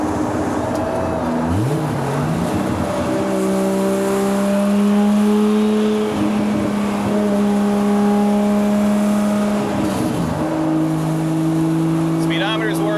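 The engine of a 1978 Datsun 280Z drones loudly from inside the cabin, its pitch rising and falling as it pulls through the gears into sixth, with a voice talking over it.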